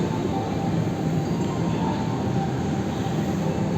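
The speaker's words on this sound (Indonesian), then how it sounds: "ini langsiran kereta api Cikuray masuk jalur 1," The KA Cikuray passenger train shunts into Pasar Senen station with a steady, low rumble and rolling noise that stays even throughout, fairly quiet and without voices.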